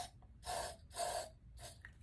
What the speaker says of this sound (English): So a couple of sprays will work fine.